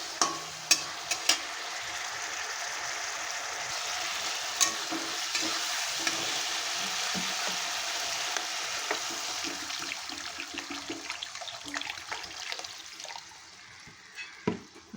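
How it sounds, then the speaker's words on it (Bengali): Spiced rohu fish curry sizzles steadily in a pan as water goes in, a broad hiss with scattered sharp pops and stirring scrapes that eases toward the end, with no talking. "মশলা দিয়ে ভালো করে আমি কষিয়ে নিয়েছি, আর এখন দিয়ে দেবো জল।"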